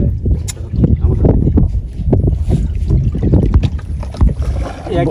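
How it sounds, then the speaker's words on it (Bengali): A fishing boat moving on a village river, heard as a steady, fairly loud rush of water and wind-buffeted noise that continues without a break through the whole stretch. "মাছ ধরার নৌকা লয়ে আসছো"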